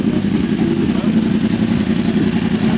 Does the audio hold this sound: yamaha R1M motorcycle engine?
yes